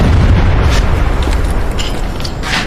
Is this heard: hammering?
no